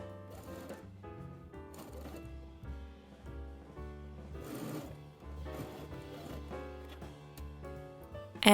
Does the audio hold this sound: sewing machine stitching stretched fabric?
yes